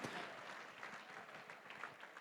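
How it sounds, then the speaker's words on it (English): A gala audience applauds during a charity auction, a dense, steady patter of many hands clapping at moderate level throughout with no voices standing out. "Give him a round of applause again."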